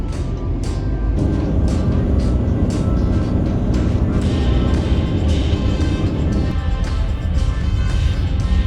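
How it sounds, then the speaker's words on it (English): Steady car interior drone on a long Florida road trip, a continuous loud rumble with road noise and faint intermittent ticking, no talking. "We've been driving all day."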